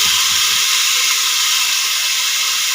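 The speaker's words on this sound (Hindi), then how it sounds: "प्याज को लाइट ब्राउन तक भूनना है।" Onions sizzle in a hot pan as they fry to light brown for matar pulao, a steady, loud, close hiss with no talking.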